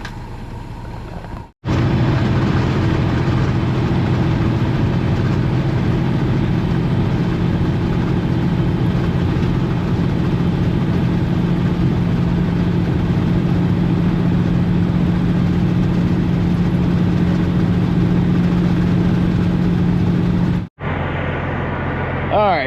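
A dump truck engine drones steadily while driving on a road through rice fields, a loud, continuous low rumble with a faint hum that holds for about twenty seconds before cutting off.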